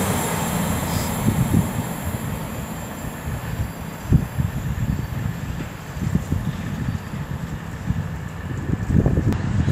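An Avanti West Coast train from London Euston to Chester passes on the West Coast Main Line at Rugby, a steady rumble of wheels with rhythmic thumps over rail joints and a faint high squeal, heard close and fairly loud.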